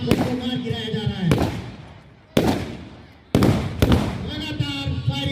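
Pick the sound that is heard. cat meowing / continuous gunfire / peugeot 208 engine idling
continuous gunfire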